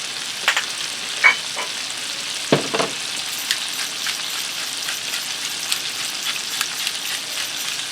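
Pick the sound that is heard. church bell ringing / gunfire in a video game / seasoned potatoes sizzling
seasoned potatoes sizzling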